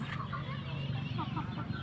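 A fighting cock being shown, clucking and calling with soft, low, repeated notes, close by and steady over a background of voices and hum.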